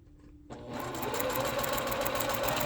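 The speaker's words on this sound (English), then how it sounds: "at this point, still continue to be able to chain stitch" A sewing machine chain stitches quilt blocks for a scrappy heart block, starting after a quiet half second and then running steadily and loudly up close with a fast, even whirr.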